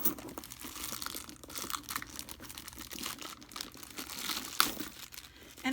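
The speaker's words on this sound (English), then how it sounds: "take the plastic off the handles" Crinkly plastic wrapping is peeled and crumpled off the handles of a purse, a continuous close rustle with scattered crackles and a sharper snap near the end, no talking.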